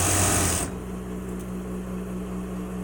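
A sewing machine stitching a large pull-string fabric bag runs in a loud close burst for under a second, then stops, leaving a low steady hum.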